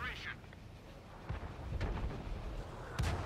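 Artillery shells from a Pz.Sfl. IVc in World of Tanks on the Malinovka map burst in a few dull, booming explosions spaced across the moment, over a rumbling, windy game soundscape.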